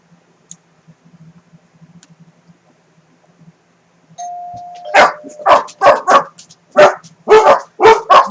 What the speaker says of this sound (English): It's your doorbell, guys.